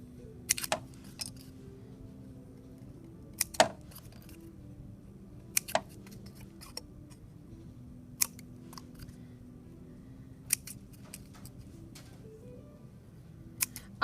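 Scissors cut a paper star shape for a homemade printmaking stamp, giving sharp, close snips at irregular intervals over a quiet background.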